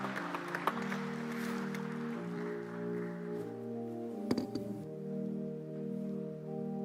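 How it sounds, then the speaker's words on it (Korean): Applause from a church congregation at a retirement ceremony for elders, ordained deacons and deaconesses, strongest at the start and fading over the first seconds beneath sustained organ-like tones that continue alone. "또다시 같은 박수, 큰 격려의 박수 부탁드립니다."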